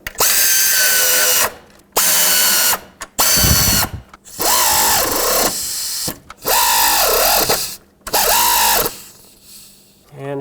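A power drill runs in five or six separate bursts, each spinning up, whining and winding down, as it drives three screws through a throttle cable bracket into the intake of a 1997-2003 Ford F-150, close and loud with short pauses between.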